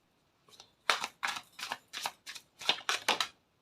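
Tarot cards being shuffled by hand, a run of about eight crisp riffling bursts in steady succession, close and fairly loud, with no talking.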